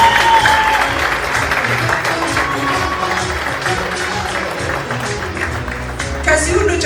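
A studio audience at a television show applauds steadily and loudly for the whole stretch, with a dense wash of clapping and faint voices mixed in.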